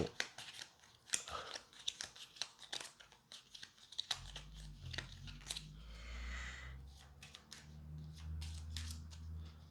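Playing cards shuffled for the board game This War of Mine, a close run of crisp riffles and snapping flicks in uneven bursts, then a steadier rustle over a low rumble.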